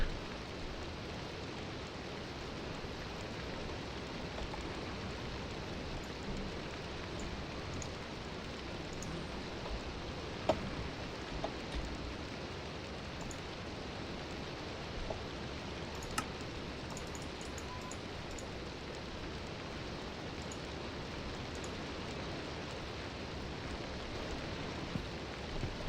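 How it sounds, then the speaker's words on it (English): Rain falls in the Minecraft modpack All the Mods, a soft, steady, even hiss at low level with a few faint ticks scattered through it and no voices. "Let's turn this rain down."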